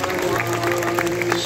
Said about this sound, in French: Mais je pense que nous pouvons à nouveau applaudir Cali pour ce joli rappel.